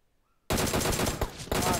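Rapid gunfire in PUBG Mobile, M4 rifle fire in a squad match, bursting in loudly after a half-second of near silence and rattling on in dense volleys with a short dip before resuming.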